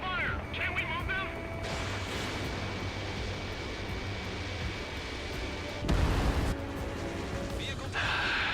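Anti-aircraft guns firing in Ace Combat 7 over a dense, steady roar of battle noise, with a louder burst near the end and brief radio-style voices at the start.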